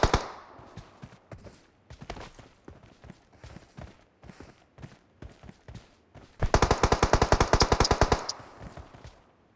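Gunfire in the mobile battle-royale game BGMI: bursts of single rifle shots at first, then a dense, loud rapid-fire automatic burst, punchy and close, with no voices over it.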